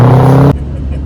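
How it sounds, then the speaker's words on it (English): Loud diesel Ford Ranger truck engine droning steadily inside the cab on a road trip, with a strong low hum that cuts off abruptly partway through, leaving quieter road rumble. "I can't hear anything from this loud truck"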